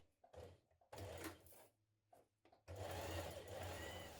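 A sewing machine bastes along the bottom of a skirt waistband in short, quiet bursts of stitching, stopping and starting, then running steadily toward the end.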